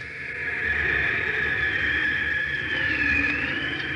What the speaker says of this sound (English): That's the artificial wind your car creates when you're driving around 30 miles an hour.